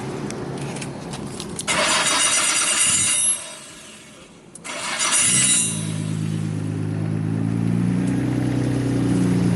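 A car engine cranks loudly, pauses, then cranks again and catches, settling into a steady close idle.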